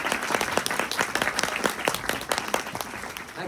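An audience claps at a talk, a brisk, lively burst of many hands with distinct sharp claps, steady and fairly close for a few seconds with no voices over it.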